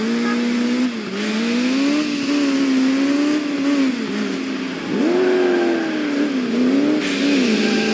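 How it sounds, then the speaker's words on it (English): A car engine in the Crash Time II driving game, chasing a remote-controlled vehicle, drones loudly and continuously, its pitch rising and falling as it revs and shifts, with no speech. "We have started a remote-controlled vehicle. Take up pursuit and stop it."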